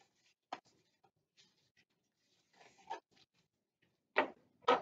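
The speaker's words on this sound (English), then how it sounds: "what I'm doing first is cutting my strips of ribbon" Scissors snip through strips of ribbon for homemade twirlers, giving sparse, short crisp cuts and rustles separated by quiet gaps, with a few louder snips near the end, close by and alone.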